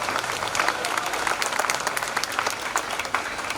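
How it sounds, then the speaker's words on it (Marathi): A crowd at a devotional walking procession (dindi) event claps loudly and continuously, a dense burst of applause that stays strong throughout. "आणि एकदा जोरदार टाळ्या झाल्या पाहिजे."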